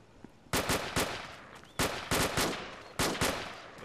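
Automatic gunfire in the ArmA2 military shooter, heard as several loud, sharp bursts of two or three rapid shots each, separated by short pauses and close to the listener, with no talking.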